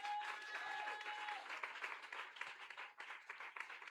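A church congregation claps and applauds together in a sustained, dense burst, steady throughout with a few louder individual claps standing out.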